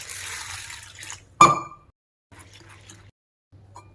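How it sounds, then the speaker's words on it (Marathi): Chana dal being washed in water: a soft trickle and light swishing give way to one short, sharp splash, followed by faint dribbles and quiet gaps. "आपण चना डाळ घ्यायची, ती स्वच्छ एकदा धुवून घ्यायची."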